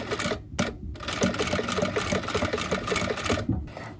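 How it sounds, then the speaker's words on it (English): A sewing machine hems the scooped back of a satin slip dress in close, loud, fast rhythmic stitching, with a brief pause and restart partway through. "I'm going to hem this part of the dress, the scooped back"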